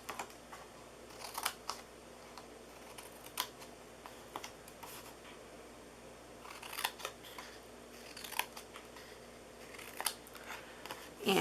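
Scissors cut into a paper gift box template for a craft project: a scattering of quiet, crisp snips in short clusters, set apart by pauses in an otherwise hushed room.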